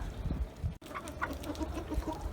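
Chickens clucking softly and steadily nearby as they feed alongside ducks, a cluster of short murmuring calls over a low rustling background.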